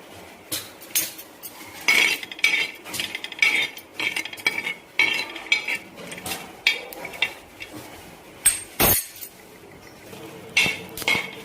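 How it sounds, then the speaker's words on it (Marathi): Grated coconut is dry-roasted in a pan for a Marathi chickpea curry masala, with a utensil repeatedly scraping and clinking against the metal pan in short, irregular strokes, close and fairly loud, with no talk. "सगळ्यात अगोदर मी खोबरं टाकून घेते भाजायला"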